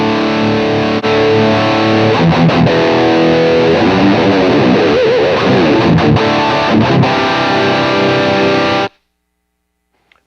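An electric guitar plays through the lead channel of a U.A. Lyon amp plugin, loud and heavily distorted, with sustained chords and rapid lead riffs for about nine seconds before stopping abruptly into silence.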